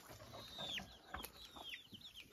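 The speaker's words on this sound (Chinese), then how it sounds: "那是带16只小鸡的母鸡" A hen leading her chicks on a rural farm: high, thin descending peeps and soft clucks come in short bursts, close and moderately loud, with no talking.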